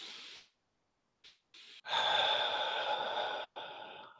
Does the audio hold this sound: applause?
no